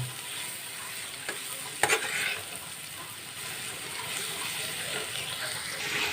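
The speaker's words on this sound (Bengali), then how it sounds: "একটু লঙ্কার গুঁড়ো দিয়ে দিয়েছি, দিয়ে ভালো করে হালকা ফ্লেমে এবার নেড়ে চেড়ে নেব" Ivy gourd fries with chili powder in a pan over a low flame. A steady, even sizzle continues throughout, broken by one or two sharp knocks of a stirring spoon.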